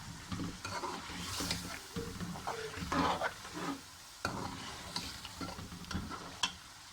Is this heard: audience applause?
no